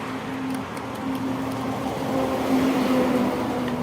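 Heavy trucks roll past on a road near Alanya Castle, giving a continuous low engine drone and rumble that swells slightly toward the end, with no voices.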